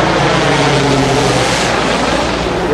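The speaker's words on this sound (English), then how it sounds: "You can see another airplane coming down." An airplane working a fire incident roars overhead, a loud, steady engine drone that fills the scene with broad rumbling noise throughout.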